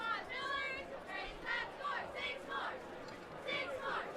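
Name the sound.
cheerleaders cheering at a high school football game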